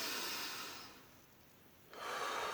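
Slow, deep, full breaths, heard close and soft: a long airy inhale, a quiet pause, then another breath rising again, with no talking.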